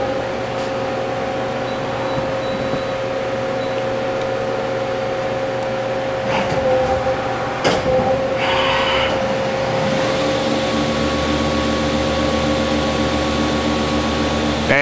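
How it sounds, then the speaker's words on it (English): A 1995 Okuma Cadet L-1440 two-axis slant bed CNC turning center with coolant runs a short cycle, giving a steady loud machine hum with whining tones, brief clunks around the middle and a shift in pitch near the end. "So we will go ahead and start this machine and run it through a short cycle."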